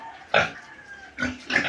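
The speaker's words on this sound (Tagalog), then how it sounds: "At ang mga baboy po, napakain ko na rin." Two bursts of pig grunting and snuffling, close by, with a quieter gap between them.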